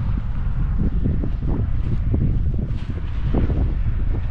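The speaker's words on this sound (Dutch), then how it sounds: "We lopen alleen tegen de wind nu" Strong wind buffeting the microphone while walking along the IJsselmeer shore, a loud continuous low rumble with gusty surges throughout and no talking.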